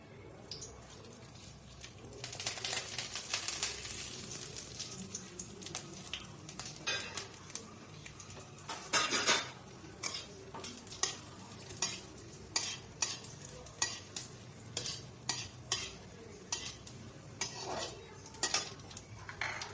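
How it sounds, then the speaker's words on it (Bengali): Whole spices crackle and sizzle in hot mustard oil in a pan while a utensil scrapes and stirs in quick repeated strokes, with a few brief louder clatters and faint birdsong in the background. "তেল গরম হতে আমি ফোড়নগুলো দিয়ে দিলাম"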